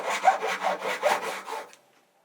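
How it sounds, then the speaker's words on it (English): A handsaw cuts through hard ebony violin pegs with a steady run of about eight quick, rasping back-and-forth strokes, close and fairly loud, then the sawing stops and the clip ends in near silence. "Ebony wood is strong, but this saw is sharp and the pegs cut quite easily."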